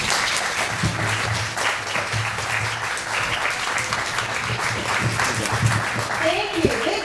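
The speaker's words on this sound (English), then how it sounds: "Big round of applause." A big round of applause at a Seattle food festival, dense and loud across the whole stretch, with a voice faintly audible beneath the clapping near the end.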